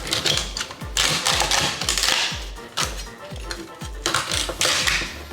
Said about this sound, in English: I'm just gonna cut it into chunks. And same with my celery.